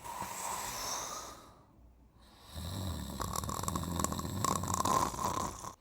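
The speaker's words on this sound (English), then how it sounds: "There's no way that you can be snoring that loud." A man snores loudly in long, rasping breaths: a drawn-out inhale, a short pause, then a heavier, rattling snore building in strength, close and alone without speech.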